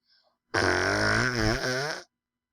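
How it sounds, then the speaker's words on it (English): A loud, drawn-out fart from a pet named in the Flower and Marigold series, a single sustained rumbling burst of about a second and a half with a wavering pitch, close to the listener and alone. "Oh, she just farted."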